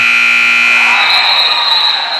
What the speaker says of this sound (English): And Alderson gets a putback at the buzzer, and it's going to count, making it 34-13 here at halftime